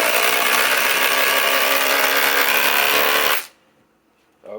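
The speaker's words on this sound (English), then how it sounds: "Let's run it without an existing hole with the full mode 2400 inch pound." A RIDGID four-mode impact driver on full 2400 inch-pound mode drives a thick lag screw without a pilot hole, a loud, continuous close hammering buzz for over three seconds that stops abruptly, leaving near silence.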